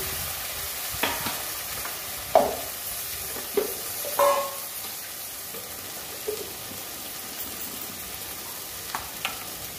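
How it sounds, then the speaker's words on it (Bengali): Poppy seed paste (posto masala) frying in a pan while being stirred, with soft sizzling and occasional scraping clinks of a spoon against the pan; fairly quiet, no talking. "পোস্ত মশলাটা ভাজা হয়ে গেছে"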